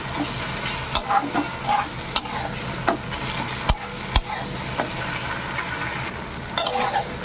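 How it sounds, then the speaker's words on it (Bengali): Ground spice paste with flattened rice paste frying in oil in a pan for a green banana curry, steady sizzle broken by regular spatula scrapes and clicks, loud and close. "কাঁচা গন্ধটা যাওয়া পর্যন্ত মশলাটাকে ভেজে নিতে হবে"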